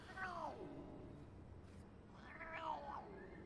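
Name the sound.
cat meowing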